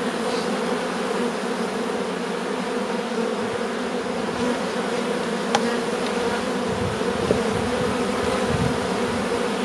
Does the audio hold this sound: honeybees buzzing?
yes